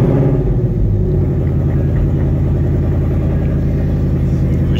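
A Ford Mustang Dark Horse idles with its exhaust set to loud mode, a deep steady rumble held close and loud with a slight swell near the start but no sharp revs.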